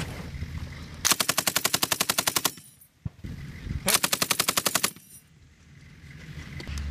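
A .50 caliber machine gun fires live from a Humvee on a range: two loud, rapid bursts of about fifteen evenly spaced shots each, separated by a short pause, over a low engine hum.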